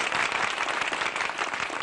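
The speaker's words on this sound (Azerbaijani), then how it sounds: "Alqışlayaq" Studio audience applauding on a televised family quiz show final, a steady, dense wash of clapping that stays loud and even from start to finish with no break.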